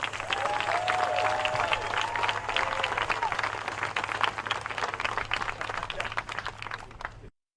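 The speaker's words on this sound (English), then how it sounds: "please give a round of applause for Pete Dietz." A rally audience at a vice-presidential campaign event in Kenosha gives a round of applause, dense clapping mixed with cheers and whoops that fills the space and gradually thins out before cutting off.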